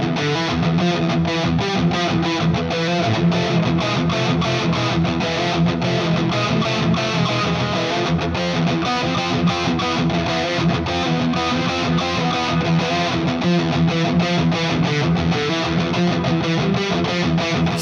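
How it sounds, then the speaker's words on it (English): A Harley Benton ST-80FR electric guitar plays through heavy distortion, a dense, continuous stream of loud overdriven chords and notes with no talking. "Sounds and tones that you can get out of this guitar."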